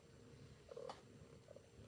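A house cat purring close by, a soft, steady low rumble with a faint brighter chirp near the middle, quiet and alone with no talk.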